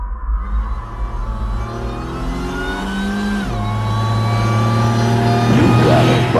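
A Pontiac Fiero with a swapped 3800 engine revs up close and loud, the pitch climbing steadily, dropping briefly, then rising again over a strong low rumble.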